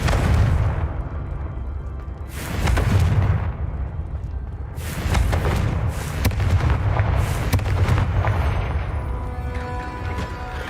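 Fiery Confringo spell blasts in the Hogwarts Legacy video game, several deep booming bursts around 2.5, 5 and 7 seconds over a constant low rumble, loud and close with no talking.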